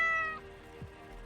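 A cat meows once briefly and clearly at moderate volume, with no talking over it.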